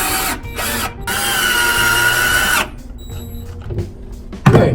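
A power drill drives GoBoard fasteners through a point drain into a shower subfloor, with two short whirring bursts and then a longer sustained run of the motor, followed by quieter clicks and handling noise.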